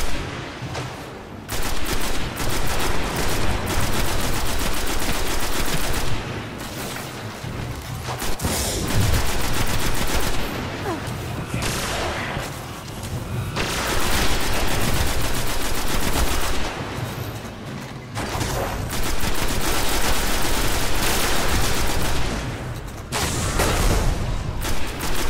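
Sustained bursts of heavy gunfire and rapid automatic shooting from a Destiny online shooter battle, loud and dense, broken by a few short lulls across the stretch.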